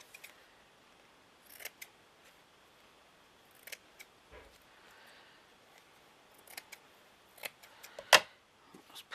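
Scissors snip through material for a vintage book cover in a few short, scattered cuts in a quiet room, with one louder, sharper snip near the end.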